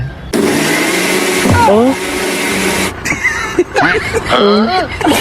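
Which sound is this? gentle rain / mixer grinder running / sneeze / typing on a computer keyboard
mixer grinder running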